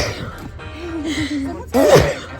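A single sneeze bursts out near the end, loud and close, after quieter indoor sounds and a voice speaking softly beforehand.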